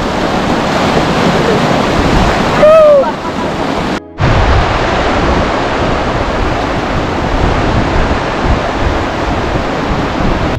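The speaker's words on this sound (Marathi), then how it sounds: "जेव्हा ग्लेशियरवरचा वितळतो ते हे पाणी वाहत खाली येतं आणि बर्फाचंच पाणी आहे पूर्ण." Glacier meltwater stream near Pangong Lake in Ladakh, a loud continuous rushing roar of cold water. A brief squeal breaks in partway through, then a short dropout, before the steady flow resumes.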